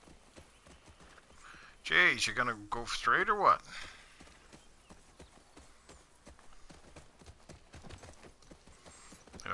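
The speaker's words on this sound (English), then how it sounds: "The horse just wanted to go around circles at a time." Horse hooves clip-clop with a whinny from a ridden horse in The Last of Us Part 2, a loud burst of galloping and neighing for about two seconds, followed by someone talking over quieter footfalls.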